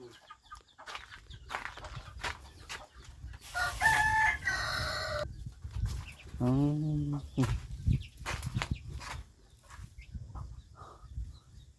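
Chickens crow and cluck at a rural Thai homestead, with one long crow rising loud near the middle and scattered clucks around it, while people talk nearby throughout.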